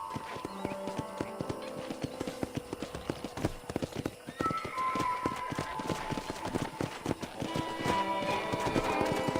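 Horses in a ranch corral in the video game Red Dead Redemption clip-clopping and trotting around, hooves clattering steadily, with an occasional whinny over a busy, continuous background.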